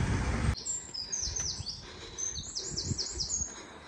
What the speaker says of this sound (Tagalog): Sarap na ng pakinggan yung huni ng ibon.